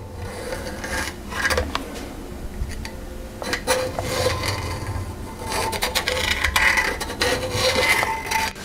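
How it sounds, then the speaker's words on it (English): A scribe is drawn around the engine bores on the block side of a head gasket, giving repeated scratchy rubbing strokes and light taps, close up with no talk. "Scribe round the bores."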